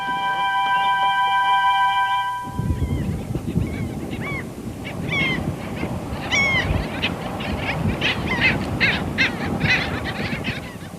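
Wild geese in the Manu Biosphere Reserve honk repeatedly in loose, overlapping calls over steady outdoor ambience. A tonal hum fades out in the first couple of seconds, and no one speaks.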